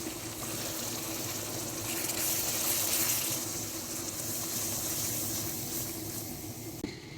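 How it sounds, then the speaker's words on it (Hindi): Water poured into a pan of frying spices and ghee for an Aloo Moongre curry, bringing a loud, steady sizzling hiss that swells then settles over several seconds. "थोड़ा सा पानी ऐड करेंगे।"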